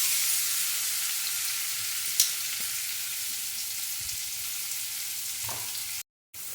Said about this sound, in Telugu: ఆనియన్స్ కూడా బాగా ఫ్రై అనిద్దాం, గోల్డెన్ కలర్ వచ్చే వరకు.